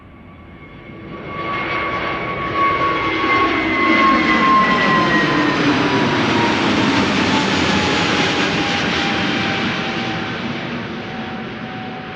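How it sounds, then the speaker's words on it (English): An SAS Airbus A320neo jet takes off, its engine roar building from a low rumble into a loud, sustained thrust with a rising whine, then slowly fading as it climbs away. "SAS flight 556, A320neo going to Stockholm"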